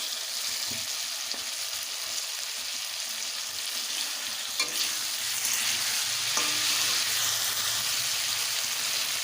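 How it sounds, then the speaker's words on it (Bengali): Tomatoes frying in a pan as a ground ginger, cumin and dried chili paste is stirred in, a continuous close sizzle with scraping and stirring sounds throughout. "এবার আমার ভেজে নেওয়া হয়ে গেছে টমেটো এবারে দিয়ে দেবো বাটা মশলা আদা জিরে শুকনো লঙ্কা"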